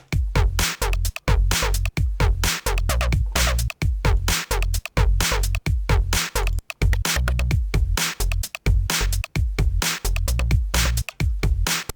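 A looping electronic Protracker pattern of choppy, clipped hits from a shortened sample, repeating in a tight, fast rhythm, loud and continuous throughout.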